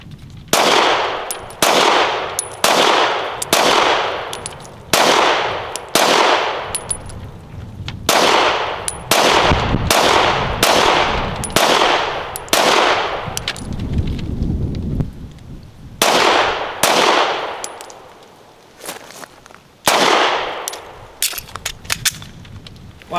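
Walther PDP Compact pistol fired at a shooting range, a long string of loud, sharp gunshots in quick groups with brief pauses between strings.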